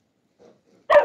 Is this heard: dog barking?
yes